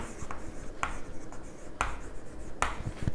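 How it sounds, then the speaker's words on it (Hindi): A topic name is written on a board in a classroom lesson, a few quick scratchy strokes close by over a faint background hiss. "तो सबसे पहले हम लोग यहाँ पर टॉपिक का नाम लिखेंगे"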